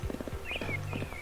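Horse hooves clip-clop in a quick rhythm while riding island trails in the PS1 game Mary-Kate & Ashley Winner's Circle, with a bright whistling game tone sweeping over the steady hoofbeats.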